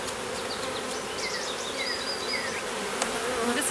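Honey bees buzz thickly around an open hive, a close swarm of overlapping whining drones with individual bees flying past near the listener, and no talking.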